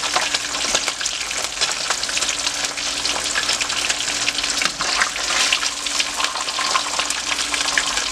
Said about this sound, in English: So let it fry a little bit, and I'll show you when it's done what it looks like.